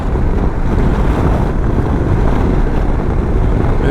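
A Royal Enfield Super Meteor 650 motorcycle cruising at speed on a ring road, heard as a loud, unbroken roar of wind buffeting over a low rumble, steady for the whole stretch with no talking.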